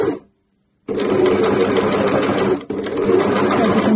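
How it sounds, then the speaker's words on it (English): An overlocker sews and trims velvet fabric in a fast, loud, continuous mechanical whir. It starts after a brief silence and pauses once before running on. "my overlocker will actually be cutting off a small amount of fabric as I go"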